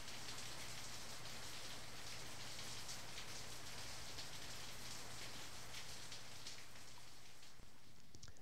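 Steady, dense rain hissing on a surface, soft and continuous throughout with no voices.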